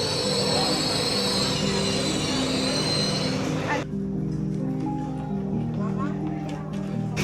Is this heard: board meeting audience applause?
no